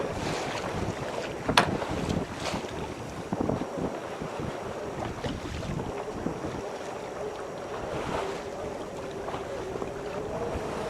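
Sailboat cruising at about 5.5 knots in a 12-knot breeze on a Pacific Northwest cruise, with continuous wind rush over the microphone and faint water wash against the hull, and no voices.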